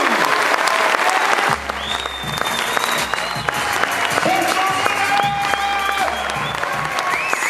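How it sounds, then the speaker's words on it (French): An audience at a mentalist's opening act for a comedy show applauds and cheers loudly and continuously, with a few voices and faint background music weaving through the clapping. "un applaudissement très nourri pour Monsieur Kevin Nicoux"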